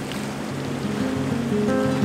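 The Green River in Wyoming makes a steady, continuous rushing sound at moderate loudness throughout, with a low hum underneath.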